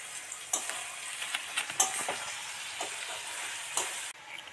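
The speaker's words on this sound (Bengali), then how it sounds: "দিয়ে এটা নেড়ে একটু ভাজা ভাজা হোক তারপরে রসুন দেবে" Chicken curry frying in a pan while being stirred: a steady close sizzle with repeated scraping stir strokes and clinks of the spoon against the pan, no talk.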